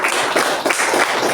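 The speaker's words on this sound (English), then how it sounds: "A round of applause." Applause at a Toastmasters meeting, a short burst of close, fairly loud clapping from a small group.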